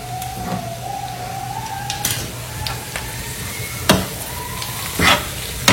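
Prawns fry in a pan with onion and chilli masala, a steady close sizzle broken by a few sharp spoon clanks and scrapes as they are stirred, with a faint tonal whine in the background and no talking.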